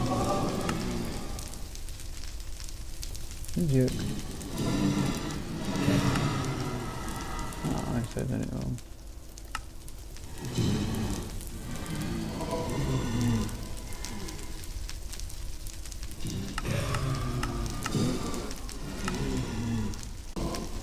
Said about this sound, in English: Rain sound.